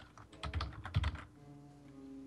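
Computer keyboard typing during co-op coding, a quick burst of close clattering keystrokes that stops after a second, leaving quiet background hum.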